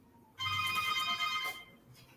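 Short electronic phone ringtone, a bright tonal chime ringing for about a second over a quiet room background.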